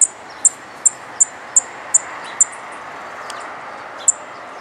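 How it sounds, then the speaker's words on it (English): Baby bird gives a series of sharp, high chirps, about eight evenly spaced peeps close by over a soft outdoor hiss, the last one after a brief pause. "It's got a good little chirp to him."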